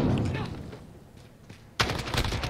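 AK-74u rifle with no stock firing 5.45x39mm rounds in Modern Warfare: a loud, dense burst of rapid automatic gunfire bursts in abruptly near the end, after a quieter stretch of background game noise.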